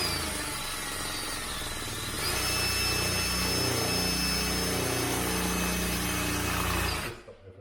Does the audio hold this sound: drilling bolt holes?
yes